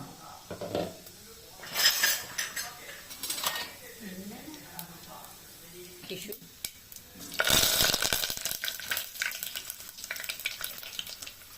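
Cumin seeds dropped into hot oil, a sizzling, spitting crackle that flares loudly near the end after quieter bursts and spoon clinks against a metal pan.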